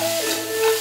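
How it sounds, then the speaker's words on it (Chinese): Meat chunks are stir-fried with scallion, ginger, carrot, coriander and seasoned oil in a hot wok, giving a steady, close sizzling hiss with a faint tonal hum beneath. "放入肉块，放入调好的料油翻炒"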